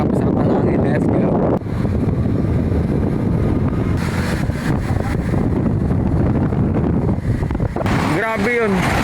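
Strong wind buffeting the microphone while travelling along a zigzag route through the Sierra Madre mountains, loud and continuous, with a person briefly exclaiming over it.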